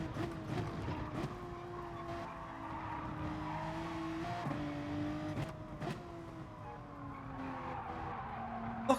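A car in GT Sport rotating under braking, its tires squealing in long, wavering tones over a steady engine drone, loud and close with no talk over it.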